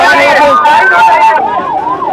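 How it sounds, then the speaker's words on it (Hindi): An ambulance siren wails with rising and falling tones as it moves through an opened road barricade during a street procession in Chhattisgarh, loud and close against steady crowd noise. "ये देखो एम्बुलेंस के लिए जो है खोल दिए गए बैरिकेड ला, और यहाँ पर एम्बुलेंस"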